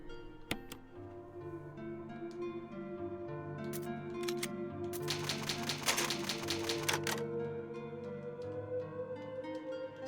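Resident Evil's save sequence: a typewriter clacks in a rapid burst of key strikes over a soft, steady game ambience, with a few isolated clicks before the main run.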